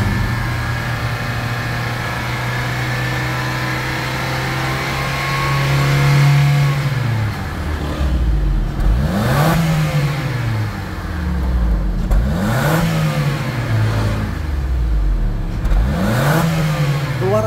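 A Honda CR-V engine idles steadily, then gets sharp repeated throttle blips, each surging up and dropping back in a regular rise-and-fall pattern, loud and close with no voices.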